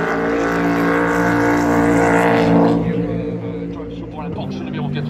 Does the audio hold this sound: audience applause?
no